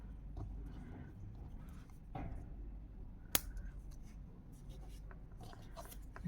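Scissors cut crochet yarn close up in a quiet room, with soft rubbing and handling noises and one sharp snip standing out partway through.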